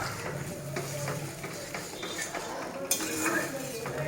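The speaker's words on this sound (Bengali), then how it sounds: "মশলাটা কষাই আগে" Spice masala frying in a pan before fish is added for a katla curry with potato and green banana, with irregular stirring scrapes and clinks over a low sizzle, close and moderately loud.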